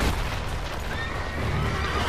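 A horse in the video game Assassin's Creed Brotherhood gives a loud, close, drawn-out whinny against dense, noisy game background sound.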